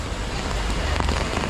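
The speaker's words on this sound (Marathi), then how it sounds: "आणि पाऊस आलेला आहे. जाम जोरान पाणी यायला" Heavy rain pours steadily during a pilgrimage tour to Velankanni, making a dense, even hiss with no breaks throughout.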